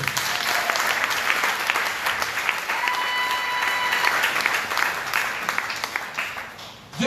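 A church congregation at a Sunday service bursts into sustained, dense applause, loud and even for several seconds before tapering off at the end.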